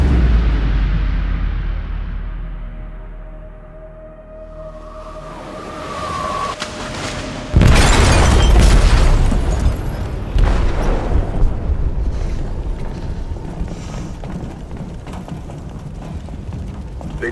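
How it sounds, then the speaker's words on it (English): A loud, sudden explosion rips through a ship's hold in the video game Detroit: Become Human, following a low mechanical rumble and sweeping tones, then trailing into a long, heavy roar and crackling debris. "They detonated an explosive in the hold."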